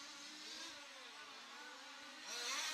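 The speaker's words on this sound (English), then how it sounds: "we get too much engine noise in if you're not there" Large scale radio-controlled touring car engines whine and rev at a racing event, a continuous buzzing drone with shifting pitch, swelling louder at the end.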